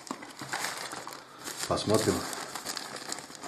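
Small, flimsy parcel bag of Chinese goods crinkling as it is unpacked, with close rustles and crackles running throughout under a man's speech.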